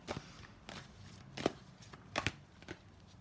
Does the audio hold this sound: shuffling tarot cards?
yes